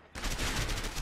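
Burst of rapid gunfire in the co-op prison-escape game A Way Out, loud and close, erupting after a brief quiet and continuing as a dense volley.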